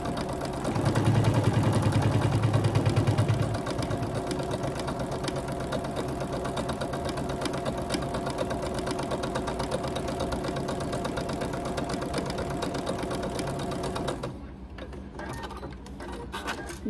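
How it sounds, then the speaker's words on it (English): A sewing machine stitches a quarter-inch seam on quilt fabric for a Carpenter Star block, a rapid steady mechanical whir with a louder burst at the start, running continuously until it stops near the end. "We're gonna sew a quarter inch on each side of this line, just like we did before."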